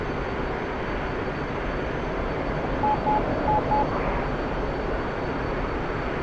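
The F-15EX jet engine in the DCS flight simulator game roars as a steady, even drone, with a faint tone blipping briefly near the middle and no talk over it.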